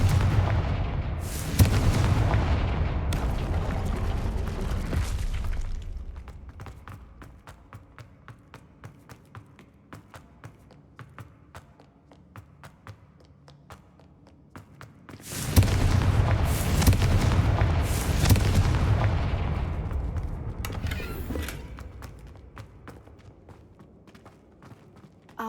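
Confringo fire spell blasts in Hogwarts Legacy, loud booming explosions in two dense bursts separated by a quieter stretch of scattered crackling impacts, with no talk.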